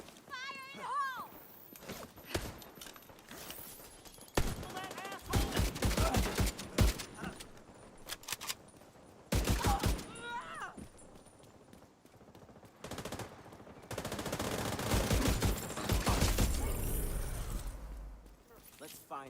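Rapid automatic weapon fire from a squad firefight in The Division 2 video game, loud bursts and single shots stacked across the fight with clanking mechanisms and occasional shouted voices between volleys.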